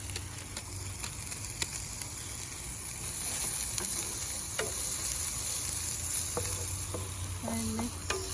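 Onion frying in hot oil in a pan, a steady bed of sizzle that grows a little fuller partway through, with a few light scrapes and clicks of a utensil near the end.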